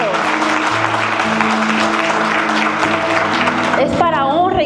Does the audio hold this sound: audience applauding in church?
yes